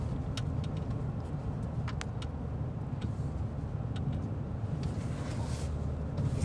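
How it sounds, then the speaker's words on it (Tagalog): Steady low road rumble of highway traffic heard from inside a moving car, a constant engine and tire drone with faint scattered ticks over it; no talk. "Highway."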